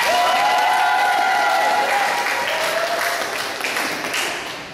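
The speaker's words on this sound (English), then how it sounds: "Yes, applause again." Sustained applause from an audience at a student debate between Political Science and Islamic Studies students, loud and dense throughout, with a few voices calling out over it and slowly tapering near the end.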